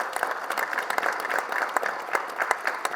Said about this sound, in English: Let's give Mr. Cantu a great round of applause.